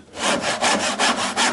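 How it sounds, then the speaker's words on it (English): Hand saw cutting through wood, including a knot, to make a T halving joint: close, rhythmic rasping strokes, about five back-and-forth passes in quick succession with no voices. "Now that knot's going to cause me trouble, so I shall cut straight through the middle of it."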